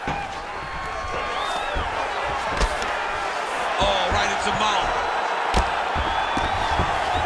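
An arena crowd at a UFC fight, a heavyweight semifinal bout, roars and cheers as a steady, dense wash of noise beneath excited play-by-play commentary, with a few sharp thuds and whoops rising from it.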